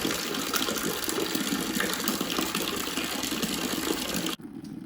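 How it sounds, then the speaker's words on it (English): Beer wort from a Weissenbock double mash pours through a thick foam cap into a bucket, producing a loud, continuous, close gushing and bubbling wash that cuts off abruptly near the end. "I just love the sound of when the liquid is passing through the thick foam there."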